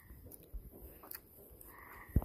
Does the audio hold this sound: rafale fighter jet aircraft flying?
no